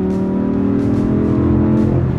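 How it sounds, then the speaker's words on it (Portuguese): An Audi R8 engine revving while downshifting, heard from inside the car as a loud, sustained tonal growl with rising and falling pitch and brief crackling pops, no talking. "Olha a reduzida desse carro"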